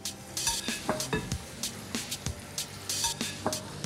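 Chopped leeks tumble into a hot pot and set off a steady sizzle, with a few sharp clinks of a utensil against metal as they're stirred, close and fairly quiet.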